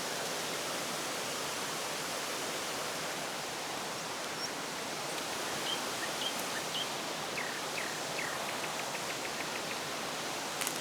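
Twin Falls at Mui Wo, swollen by rain, roars with a steady, broad rush of heavy falling water, constant and close, with faint bird chirps over it.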